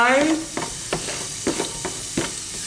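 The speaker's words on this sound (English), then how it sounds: "I'm going to fry the onion until this starts to go soft" Diced onion sizzles in a hot pan, a steady broadband hiss broken by regular scraping stirs about every half second, close and clear with no talking.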